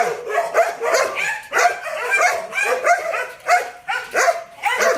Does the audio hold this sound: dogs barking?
yes